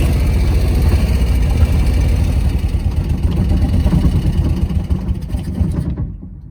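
A 1971 Volkswagen Karmann Ghia engine idles a little high, a steady close rumble that runs without a break and then cuts off abruptly near the end.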